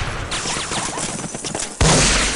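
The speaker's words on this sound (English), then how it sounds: "I can get him in one shot." Rifle fire in the World War II shooter game Day of Defeat, with a rattle of shots followed by a single loud, sharp report near the end.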